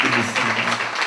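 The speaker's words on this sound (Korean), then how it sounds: "우리 박수로 환영하겠습니다." Church congregation at a Sunday worship service applauding to welcome a visiting family: a short burst of dense, steady clapping with voices murmuring underneath.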